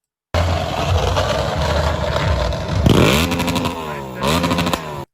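A motorcycle rides down a city street during a protest and revs hard several times, its engine note rising and falling in loud bursts over constant crowd and traffic noise.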